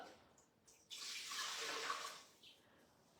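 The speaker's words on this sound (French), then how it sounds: "J'y mets de l'eau" Water pours into the bowl of a kitchen food processor in a soft, close splashing stream lasting about a second and a half, with quiet pauses before and after.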